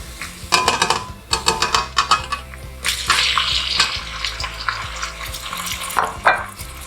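Beef tipped into a pan of frying onions for a gluten-free pasta dish sizzles loudly up close, with clattering stirring bursts over a continuous hiss.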